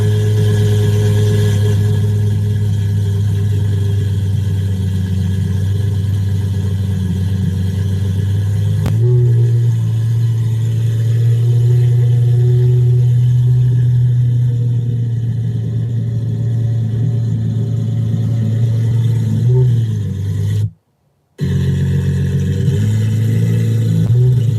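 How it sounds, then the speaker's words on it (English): A car engine idles loud and close with a deep, rumbling exhaust note, holding a steady throb with a few small blips. "That is exhaust sound."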